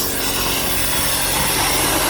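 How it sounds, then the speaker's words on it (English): A plasma cutter slices through the steel floor of a ute during repair work, a loud, continuous hissing roar that holds steady throughout, close up with no talk. "He broke out the plasma cutter like the baller he is."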